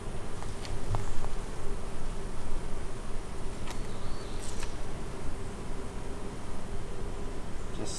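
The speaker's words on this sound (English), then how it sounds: "These bees are coming out right here." New Carniolan honey bees crawling out of a capped brood frame during a hive inspection make a steady, close, unbroken buzzing hum.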